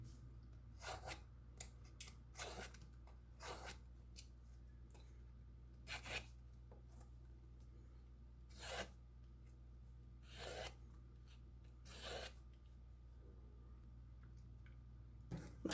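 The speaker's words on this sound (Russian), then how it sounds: "Но этот кабачок я все-таки почищу, несмотря на то, что он молоденький." A young zucchini is peeled in a kitchen, giving repeated short rasping scrapes spaced a second or two apart, close and soft over a low steady hum, with no talking.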